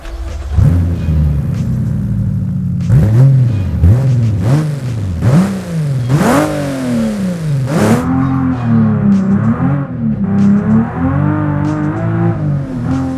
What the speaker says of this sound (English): this is the famous 2JZ engine